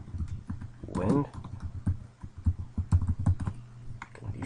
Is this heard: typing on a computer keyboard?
yes